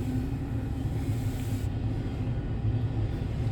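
A long freight train rolls past on the tracks, a steady, loud low rumble and rattle of railcars that holds constant throughout, with no voices.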